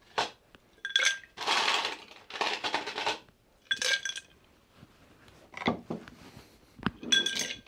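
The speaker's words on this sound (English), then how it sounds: "to our mixing glass, we're going to add more ice." Ice cubes are dropped into a cocktail mixing glass in several separate bursts of sharp clinks and rattles, close and fairly quiet, with short silences between the additions.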